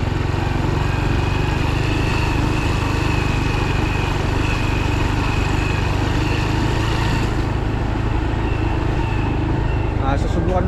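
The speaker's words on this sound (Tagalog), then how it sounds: "i-road test lang natin muna si Black Wave." Honda Wave 110 motorcycle engine running steadily on a road test, a loud, constant drone close to the microphone for the whole stretch, with a slight change in tone near the end.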